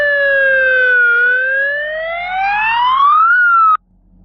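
A police car siren in the Roblox game Brookhaven wails loudly and alone, a clean synthetic tone that dips, then sweeps steadily upward over about three seconds before cutting off abruptly.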